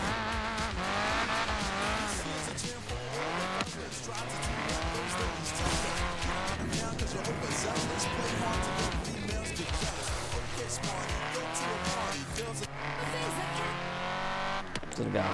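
Race car engine revving and tires squealing in Forza Horizon 3, with continuous shifting engine tones and skids mixed under game music and talk throughout.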